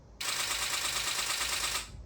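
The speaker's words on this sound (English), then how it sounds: "The shutter sound of a D3. It sounds like a machine gun." A Nikon D3 camera shutter fires in a rapid continuous burst, a dense mechanical rattle like a machine gun lasting about a second and a half, close and loud with no talking.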